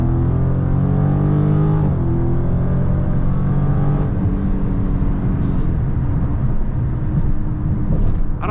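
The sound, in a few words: Dodge Charger Scat Pack widebody car accelerating hard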